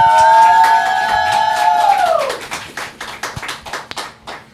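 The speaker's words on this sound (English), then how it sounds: "let's give them a round of applause." A small studio audience at a talk show gives a light round of applause. A sustained tonal sound fades out first, then scattered, uneven hand claps trail off over the last couple of seconds.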